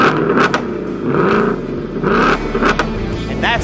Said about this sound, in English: Time to rev the engine with the remote fob.